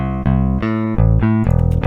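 Rickenbacker bass guitar with no high-end EQ boost, playing a continuous run of loud, full sustained notes in short phrases, dark and round in tone with no voices.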